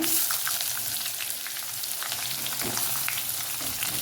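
Onion fries in a pan with a dense, even sizzle and crackle, joined by occasional light stirring sounds, steady and close throughout with no speech.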